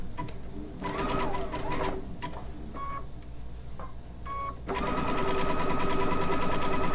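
Baby Lock Altair sewing machine stitching with a circular sewing attachment, running in short bursts with pauses and electronic beeps, then a longer steady run of rapid stitching up close.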